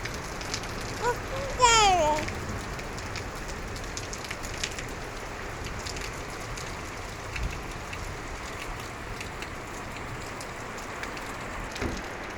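Rain falls in a constant, even hiss close by. A short high-pitched voice sound breaks through early on, then the downpour continues alone with occasional drop taps.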